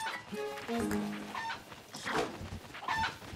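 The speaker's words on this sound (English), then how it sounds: "It's just a chicken." Cucco chicken in the video game Breath of the Wild, two or three short bursts of clucking and squawking, fairly quiet and separated by brief pauses.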